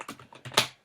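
Quick burst of typing on a computer keyboard, a handful of close, crisp key clicks in an uneven rhythm, ending with one sharper, louder keystroke.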